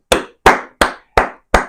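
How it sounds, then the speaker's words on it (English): Five sharp hand claps ring out at an even, deliberate pace, loud and close with brief decay between each and no other sound. "A hand clap to Scott McTominay."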